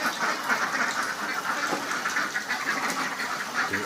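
A large flock of about 250 laying ducks quacks continuously near a fish pond, a dense overlapping chorus of calls that stays loud and busy throughout without a pause.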